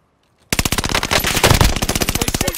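Rapid automatic gunfire from Call of Duty: Modern Warfare bursts in loud after half a second of silence, then rattles on as a dense, steady stream of shots to the end.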